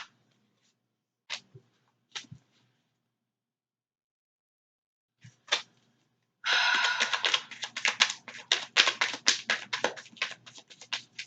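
A few isolated light taps, then tarot cards are shuffled in a dense, crackling flutter of papery slaps lasting several seconds, close and fairly quiet.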